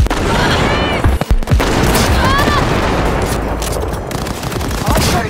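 Gunfire in the Cyberpunk video game crackles as dense, loud bursts of rapid shots over a busy game soundscape with explosive booms and a few brief whooshing effects.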